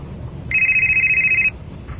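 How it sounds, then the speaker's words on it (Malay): A mobile phone rings with a single steady electronic tone lasting about one second, clear and fairly loud over a quiet indoor background with no talking. "Saya nak cuba call handphone saya. Kalau ada bunyi senang sikit nak cari."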